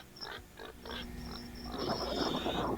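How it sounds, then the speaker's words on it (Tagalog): A pig grunts in a rural area of Leyte in the Philippines, a few short low grunts close by, followed by a rougher, denser run of snorting grunts over faint background noise, with no talking. "Ay, si baboy."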